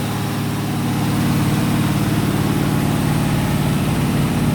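Chevy 350 small-block V8, built with a 307 crankshaft, ZZ4 heads and HEI ignition, running on its first start for camshaft break-in: a steady, loud, close, even engine drone at high idle with no talking.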